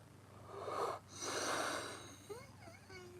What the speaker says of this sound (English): now I'm yawning